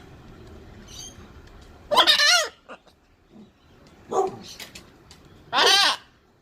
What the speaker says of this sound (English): Tell the dogs to shut up.